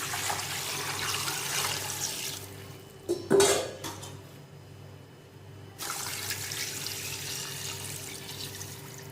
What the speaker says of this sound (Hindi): अब इसमें हमने इतना पानी शामिल करना है कि ये पाए जो ना इसमें अच्छे तरीके से डूब जाए